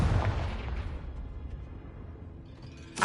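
Confringo, a fire spell in the Hogwarts Legacy video game, goes off as a booming explosion that rumbles and fades over about three seconds, followed by a short sharp burst at the end.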